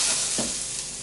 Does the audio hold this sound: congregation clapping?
no